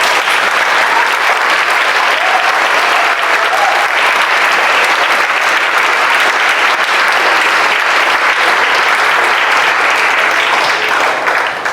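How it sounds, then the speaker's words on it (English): Loud, sustained audience applause for contestants at a school poetry final, a thick continuous roar of many hands clapping at an even level throughout. "So just one last round of applause for all of the contestants."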